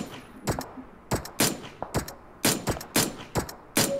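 Rapid bursts of gunfire in the mobile battle-royale game PUBG Mobile, about nine sharp shots spaced irregularly over a few seconds, loud and close with brief decays between them.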